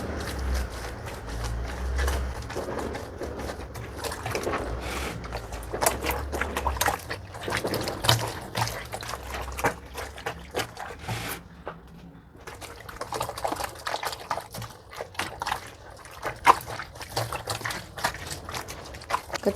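Soapy water splashes and pours in uneven bursts, with wet sloshing and clatter, pausing briefly before more pouring resumes nearby.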